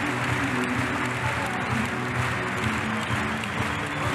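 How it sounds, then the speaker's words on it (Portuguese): Steady applause from a gymnastics competition audience in Cottbus, a dense, even clapping from a large crowd that holds at constant loudness throughout. "sendo aplaudido pelo público"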